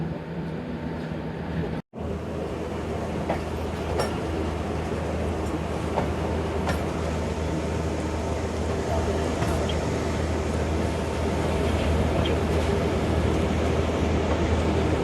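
A Sialkot Express passenger train pulls out of Shahdara Bagh junction, giving a steady, loud rolling rumble with faint clatter. A brief dropout comes near the start, then the noise runs evenly to the end with no other sounds over it.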